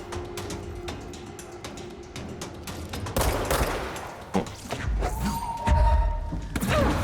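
Enemy gunfire in the video game Control comes as a rapid series of sharp shots and heavy thuds, growing louder and more clustered toward the end, mixed with game effects.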